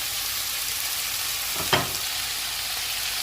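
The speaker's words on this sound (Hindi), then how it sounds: "इसमें हम शिमला मिर्च और प्याज को डाल देंगे और इनको 2 मिनट तक पकाएंगे" Bell peppers and onions cooking with chicken in a hot pan give a steady, fairly loud sizzle, with one brief clatter near the middle and no talking.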